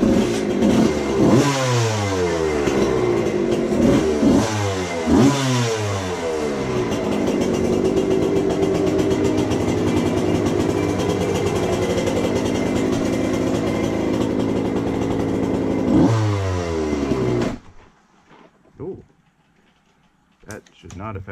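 A 1990 Suzuki RM125 two-stroke dirt bike after a full tune-up revs hard in repeated sharp rising blasts, holds a loud sustained roar, then cuts out abruptly to near silence.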